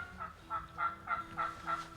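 Wild turkeys gobbling outdoors in a hunting setting: about six quick, rattling gobbles in a rapid rhythm, faint and somewhat distant against quiet background noise.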